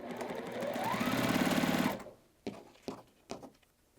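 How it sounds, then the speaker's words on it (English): Sewing machine stitching quilt block pieces together, a fast, steady motor hum with rhythmic needle chatter for about two seconds, then a few sharp clicks and handling taps. "All right, so I'm going to stitch these together first."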